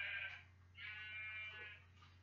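A Minecraft sheep bleats twice in short, nasal, wavering cries over a steady low hum, faint and alone.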